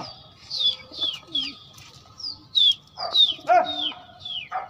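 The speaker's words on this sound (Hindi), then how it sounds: "सैदी ने तो कबूतर उड़ाया नहीं लेकिन ये बिल्कुल तैयार बैठे हैं" Pigeons coo and stir close by in a loft or coop, with a string of short rising-falling calls and chirps in irregular bursts, joined by a sharper cry near the end.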